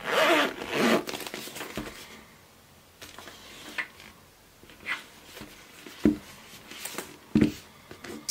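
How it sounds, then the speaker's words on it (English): The zip on a Filofax Saffiano compact zip planner rasps in a few short, close pulls, mixed with rustling and soft handling knocks as the cover is closed. "and this zips up just fine"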